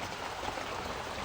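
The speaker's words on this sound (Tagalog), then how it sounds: "Ang lakas ng ulan guys." Heavy rain pours down steadily on an outdoor spot where food is being cooked, a dense, even hiss of close, continuous downpour with no break.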